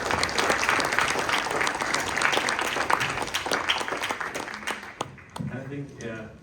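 An audience at an AI enterprise event applauds in a steady wash of clapping that fades out near the end, where a voice begins talking over the last moments.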